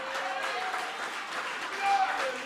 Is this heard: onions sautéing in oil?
no